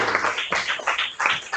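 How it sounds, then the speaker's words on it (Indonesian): Brief applause from a small audience after a class presentation on office management, several claps bunching into short bursts at close range. "boleh minta tepuk tangannya dulu"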